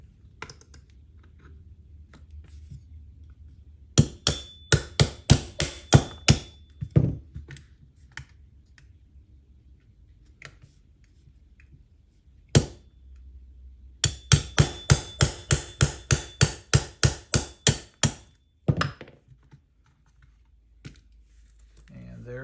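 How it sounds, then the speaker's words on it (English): Sharp, close metallic taps from pins being knocked out of a Ruger RXM pistol, arriving in two rapid bursts of about a dozen evenly spaced strikes each, separated by a short pause, in an otherwise quiet room. "So we're going to pop both these pins out here."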